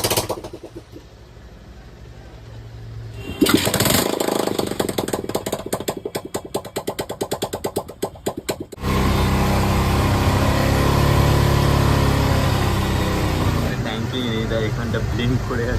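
A motorcycle engine runs on a service bench with its fuel tank removed, fed only by fuel left in the line; it churns steadily and loudly with an uneven, pulsing idle and a sharper burst partway through, with talk over it.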